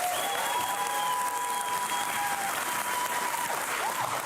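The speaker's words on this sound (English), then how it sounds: "you can start at a roaring applause" Conference audience at a DevOps event in Amsterdam bursts into sustained applause, a dense even wash of many hands clapping in a large hall, steady and fairly loud throughout.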